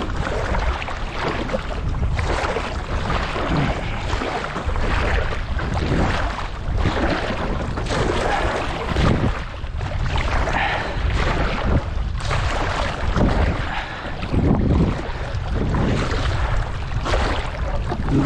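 Sea waves wash steadily around a canoe being paddled at Menton, France, with rhythmic splashes of the paddle and gusty wind noise buffeting the microphone throughout.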